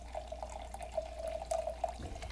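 A drink is poured into a small glass, a steady trickling, bubbling stream with faint gurgles, moderately quiet and continuous until it stops near the end.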